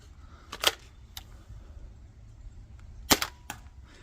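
Modified Knockout foam dart blaster fired outdoors in a yard, with a few sharp, isolated pops and a louder crack as a dart strikes a grill, heard alone against quiet background.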